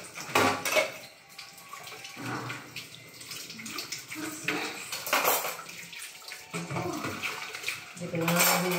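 Weak trickle of tap water runs while dishes and cutlery clink and scrape in a sink during holiday meal preparation, the splashing and clatter steady and close throughout.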